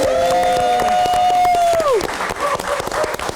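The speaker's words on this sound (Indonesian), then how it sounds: "Boleh tepuk tangan sekali lagi." A live talk-show studio audience claps and cheers, dense applause running throughout, loud and close, with a sustained voice riding over the first half.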